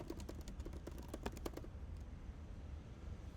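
Rapid keystrokes on a computer keyboard, a quick burst of clicky taps for about a second and a half before trailing off into quiet room hiss.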